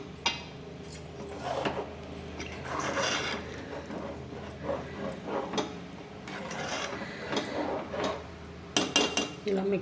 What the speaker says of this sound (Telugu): ఇలా పులుసు పోసుకున్నాక ఒకసారి గంటితో మెల్లగా మిక్స్ చేసుకోండి